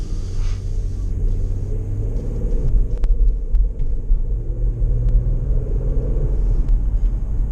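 Renault Espace running on E85 ethanol with an automatic gearbox and a modified exhaust, giving a steady deep rumble close by that swells slightly, with no talk over it.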